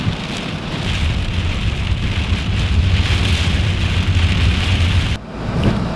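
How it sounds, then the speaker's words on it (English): Heavy rain pours steadily and loudly in a wind storm, a dense continuous roar close by with no voices, briefly dipping near the end before surging back. "it's just rain and winds and trees falling down"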